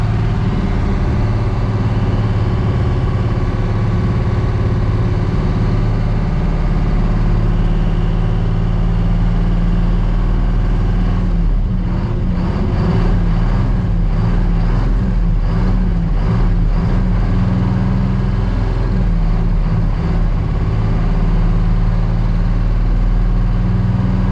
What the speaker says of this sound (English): So that like vibration you feel is the pump cavitating